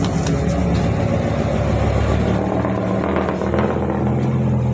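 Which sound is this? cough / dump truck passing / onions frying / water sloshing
dump truck passing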